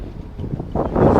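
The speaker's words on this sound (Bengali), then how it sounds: "খুব সুন্দর বাতাস" Wind blows over a houseboat on Tanguar Haor, a rough, rumbling gusting that strengthens toward the end, close to the microphone with no talk.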